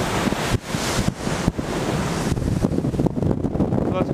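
Strong wind buffeting the microphone at the front deck of a passenger ship at sea, a loud continuous roar with gusty swells and dips throughout, with surf-like rushing beneath.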